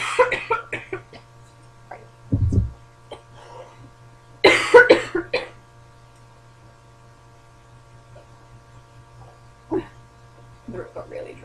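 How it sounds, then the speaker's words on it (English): A person with a dry, irritated throat gives a few short, hacking coughs scattered through quiet stretches, over a steady low mains hum, with brief bits of talk between them. "if I talk too much, my throat gets really dry, I just start hacking"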